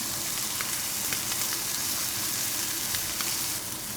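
Scallops sear in a hot pan with a loud, steady, close sizzle that hisses continuously, with occasional faint pops and no talking.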